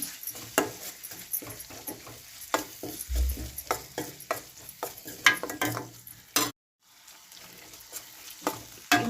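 Masala with ginger-garlic paste is stirred in a pan, the spoon scraping and tapping in irregular strokes over a soft sizzle, with a brief silent gap near the end before the stirring resumes.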